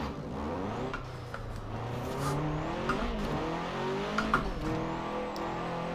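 A car modelled after Herbie driven in Forza Horizon 4, its engine droning steadily and revving up and down with shifting pitch, with short bursts of tire squeal across a continuous, fairly loud run.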